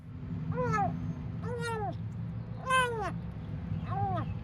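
A young male shop cat meowing four times in a row, each a drawn-out, rising and falling call, loud and close in a quiet workshop with a faint low hum beneath.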